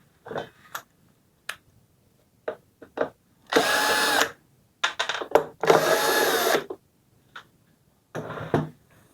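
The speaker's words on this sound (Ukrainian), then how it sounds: "Ось тут багато болтів всі ці болти відкручуємо." An electric screwdriver or drill spins out the bolts on a TOP CRAFT electric chainsaw under repair, giving two longer whirring bursts among short trigger blips and clicks, close and with no talk.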